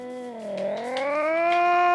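A single drawn-out cat meow in Minecraft, rising and falling in pitch over two seconds, close and clear with no talking.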